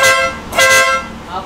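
Motorcycle horn on a BMW GS1250 build sounds in two loud, close toots separated by a short pause, with a bright harmonic tone.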